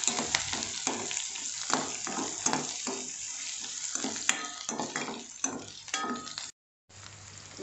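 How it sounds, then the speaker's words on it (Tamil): Large onions sautéing while being stirred for a vegetable white kurma, a soft continuous sizzle with rhythmic scraping strokes of a spatula throughout and a brief silent gap near the end. "வெங்காயம் நல்லா வதங்கிருச்சு."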